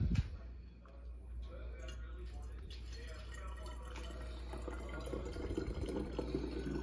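Cinnamon-infused liquid runs through a funnel into a bottle, a quiet continuous trickle with small drips and gurgles, fairly close, over a low steady hum, with a voice faintly heard.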